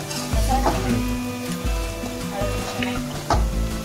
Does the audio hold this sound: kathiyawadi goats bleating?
no